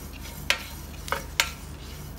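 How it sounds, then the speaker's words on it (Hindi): Sesame seeds roasting in a pan, with a few sharp scraping clinks of a spoon stirring against the metal over a low background hum. "ये तिल भून रहा है हमारा।"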